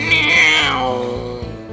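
A cartoon cat in a claymation parody gives one loud, drawn-out meow with a rising then falling whine, close and clear over faint music.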